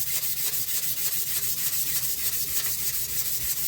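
A firearm barrel held in a padded vise is block sanded by hand, giving a steady, close, rhythmic rasping scrape of even back-and-forth strokes, alone and fairly quiet.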